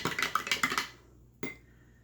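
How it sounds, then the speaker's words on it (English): A spoon clinks rapidly against a cup while stirring dark coffee for paper dyeing, about six quick metallic taps close up, then a pause and one final ringing tap. "I'm going to stir it up"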